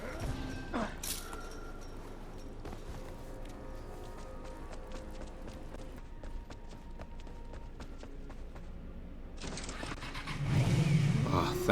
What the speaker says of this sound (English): Ah, thank goodness I got a motorcycle.